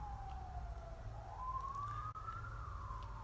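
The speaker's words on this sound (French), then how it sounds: "t'entends une sirène derrière moi, Émilie" A siren wails behind a person, heard as a single tone that slowly rises and falls, moderately faint over a low background hum.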